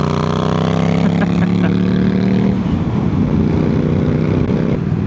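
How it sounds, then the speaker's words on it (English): Triumph Speed Triple 1200 RS motorcycle with an aftermarket Hitchcock's exhaust, a loud, steady engine drone with strong low harmonics that shifts pitch midway, rough and rumbling throughout with no talk. "little Hitchcock's exhaust sound good"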